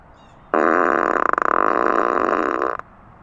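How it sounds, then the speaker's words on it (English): A loud, drawn-out fart sound effect played through a Tesla car's external speaker, buzzing steadily for about two seconds with a rattly flutter midway. "you can have your car to fart. Listen to this."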